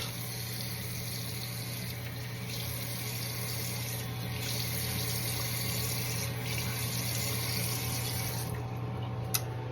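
Tap water running into a sink while someone rinses their face: steady, faint splashing flow with a low hum underneath, continuing evenly without a break.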